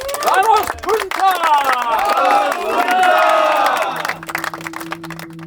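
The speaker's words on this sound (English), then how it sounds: "We applause to you guys." A crowd cheers and applauds a sailing team from Punta del Este, Uruguay, with loud whoops and shouting voices rising together over scattered clapping, close and lively before settling into a steady hum.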